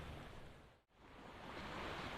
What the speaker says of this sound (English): this is the very, very, very gorgeous Chaweng Noi Beach